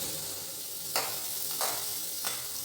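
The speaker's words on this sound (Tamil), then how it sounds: "இந்த சமயத்தில் நான் முள்ளங்கியை சேர்த்துக்கிறேன்." Radish pieces sizzle steadily in hot tempering oil with lentils, a continuous close frying hiss broken by three soft stirring scrapes spaced about a second apart.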